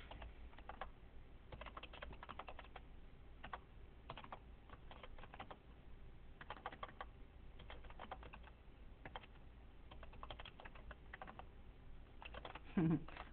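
Rapid typing on a computer keyboard while writing an email, a continuous close patter of key clicks in irregular bursts, fairly faint and without talk.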